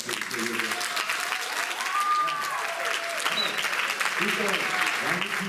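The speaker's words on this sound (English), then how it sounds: "So let's give him a round of applause." Sustained audience applause for a baritone singer at a high school choir spring concert, dense steady clapping throughout with some voices and a brief tone mixed in.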